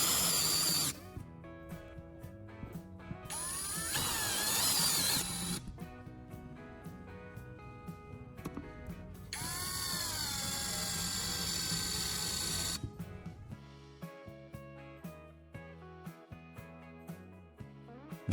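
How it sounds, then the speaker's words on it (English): Power drill driving screws into wooden hinges on a knife-sharpening base, with two long bursts of high whining drill run separated by quieter pauses and lower mechanical hum, ending in a few faint clicks. "I'm using a power drill to make sure the screws are tight and the hinges are completely stable."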